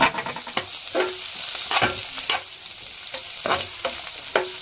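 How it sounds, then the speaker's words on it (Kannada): Finely chopped onions fry in a little oil while a spoon stirs them, producing a bright, close sizzle punctuated by repeated scraping strokes at an irregular rhythm. "ಸಣ್ಣಗೆ ಕಟ್ ಮಾಡೋಂಥ ಉಳ್ಳಾಗಡ್ಡೆ ಹಾಕೊಳ್ಳೋಣ"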